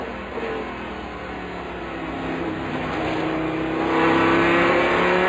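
A race car engine at the 2013 12 Hours of Sebring drones loudly from on board, its pitch shifting as it drops two gears and then climbs again while accelerating.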